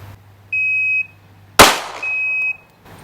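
A single sharp handgun shot fired from the ready position at 5 yards in a timed headshot drill, framed by the shot timer's start beep before it and another beep after.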